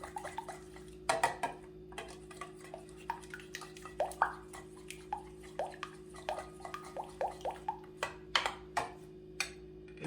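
Utensil mixing Pad Thai sauce in a bowl, producing a run of light clinks and taps at an uneven rhythm over a low steady hum.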